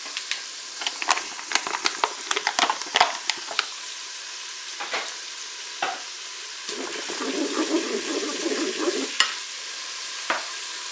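Onions and lardons fry in butter in a Cookeo pot, a steady hiss under rapid clicks and scrapes of stirring that thin out, then a louder bubbling sizzle near the end.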